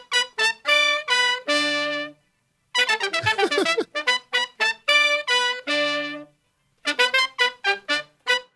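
Punchy horn section plays, short bright stabs and sustained brassy chords in a tight rhythmic pattern, loud and upfront with brief gaps between phrases.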